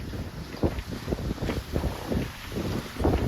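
A sailboat motoring under engine at about 7.5 knots, with a steady low engine rumble under heavy wind buffeting and the wash of water along the hull.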